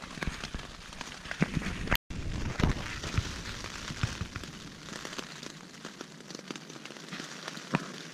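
Steady rain falls on a backpacking trip near Mollie's Ridge, a continuous close patter with occasional louder drops tapping a surface.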